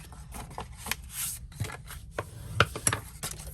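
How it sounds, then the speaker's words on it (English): Paper card stock is folded and burnished along score lines for a pop-open book card. Close, dry rubbing and scraping strokes come in short irregular bursts, with a few sharp creasing taps. "Fold and burnish all our score lines."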